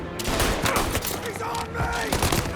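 Rapid bursts of gunfire from the video game Mafia: Definitive Edition crack out repeatedly in close, loud volleys, with shouted voices mixed among the shots.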